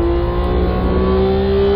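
A Porsche 911 GT3 MkII race car at full throttle on the Red Bull Ring, its engine holding a loud, steady, rising drone close by for a brief moment, with no speech.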